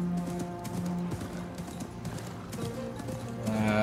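Horse hooves clip-clopping at a steady trot in Assassin's Creed Mirage, a clear rhythmic patter under a soft musical score.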